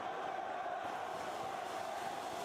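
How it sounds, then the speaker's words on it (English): A wrestling arena crowd during a hardcore match roars in a dense, continuous wall of noise, close and loud throughout, like a prison riot. "You hear the crowd, dude?"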